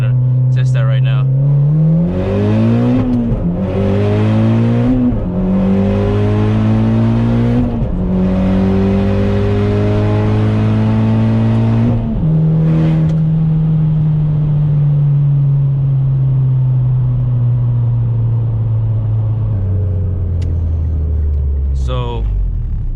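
Mitsubishi Evo X GSR engine revs hard through first gear toward 7,000 RPM, with rising pitch sweeps broken by quick shift pauses before climbing again in second, then a long sustained pull that eases off; loud and close throughout.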